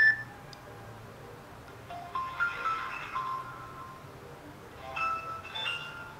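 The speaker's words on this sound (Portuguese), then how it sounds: "tem até a melodia, caso você queira colocar aqui, ó, quando você receber notificações" Notification melody tones from an IWO W97 Pro smartwatch held near a microphone, faint, bright chiming notes rising in two short bursts over steady background hiss.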